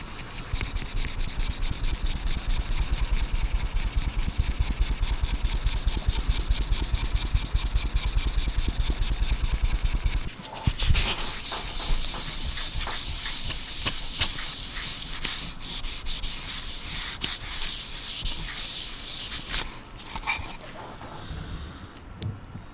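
A scratched Pokemon card is rubbed with Kurtz polish, giving a steady, rapid, close scrubbing sound for about ten seconds, then lighter, softer rubbing strokes that trail off near the end.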